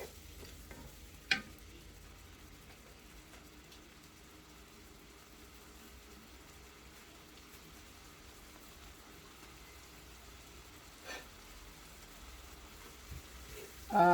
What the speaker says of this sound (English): And then I just cook this until it all gets nice and sauteed.